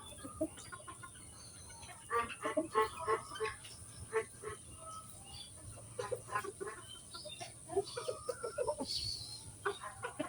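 Several chickens clucking close by in irregular bursts, with soft background noise and no speech.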